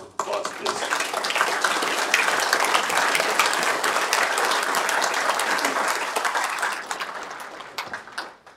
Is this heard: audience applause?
yes